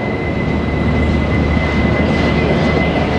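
An extremely long freight train rolls through a spiral tunnel in Yoho Park, British Columbia, giving a loud, steady, unbroken rumble with a sustained high tone running through it.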